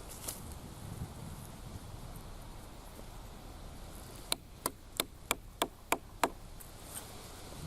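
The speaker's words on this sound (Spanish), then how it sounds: "voy mordiendo poco a poco la madera y voy avanzando en lo que me he propuesto" A Bear Claw knife chops into wood in a quick run of about seven sharp, close knocks, following quieter ambient noise with a few faint taps.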